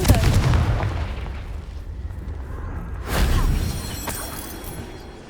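Blasts of the Confringo fire spell in the Hogwarts Legacy game, two booming explosive bursts, one at the start and another midway, each trailing off with rumble, loud and close.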